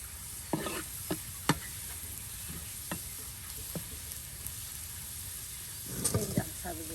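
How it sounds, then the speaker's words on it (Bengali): Country bottle gourd greens, stems and leaves stir-frying in a pan with garlic, onion, garlic greens and coriander, a faint steady hiss with scattered stirring scrapes and a brief louder clatter near the end. "এই যে আপনার একদম দেশি লাউ শাকের ডাটা পাতা ভাজি করা হচ্ছে"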